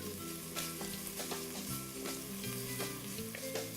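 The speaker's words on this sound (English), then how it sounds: "Give my bacon a little stir." Bacon sizzles and crackles in a pan while being stirred, a steady frying hiss with scraping stirs, accompanied by a low background hum, close and fairly quiet, no talking.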